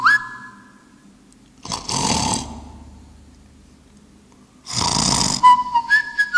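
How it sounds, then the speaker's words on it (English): Snoring recording played back by an anti-snoring phone app, two loud rasping snore bursts about three seconds apart, each framed by short electronic tones, with quiet gaps in between. "To stop this detection of the snoring, all you have to do is press on the stop button."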